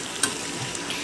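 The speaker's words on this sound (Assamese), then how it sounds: "কোমোৰাখিনি সিজালৈকে ভাজি থাকিম।" Pumpkin pieces fry in a pan with a spice paste for a duck and pumpkin curry, a soft, steady sizzle broken by a few light scrapes and knocks as the pieces are stirred.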